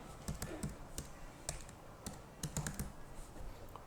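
A computer keyboard taps out an occupation in an online school admission registration form, with irregular bursts of close, crisp keystrokes separated by short pauses.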